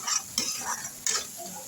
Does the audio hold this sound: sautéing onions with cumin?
yes